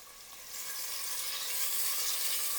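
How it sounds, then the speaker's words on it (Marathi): Chopped onion sautés in a pan for crab curry, a steady close hiss of sizzling oil that swells slightly louder and holds even throughout. "आता कांदाही आपल्याला 2 ते 3 मिनिटांसाठी छान असा परतून घ्यायचा आहे, ट्रान्सपरंट होईपर्यंत"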